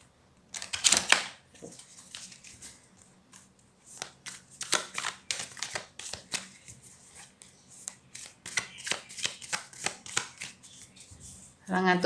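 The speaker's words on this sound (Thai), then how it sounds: "ขอสับไพ่แบบนี้นะ" A deck of tarot cards is shuffled by hand during a card reading: rapid, close bursts of riffling and slapping in uneven clusters with short pauses between them.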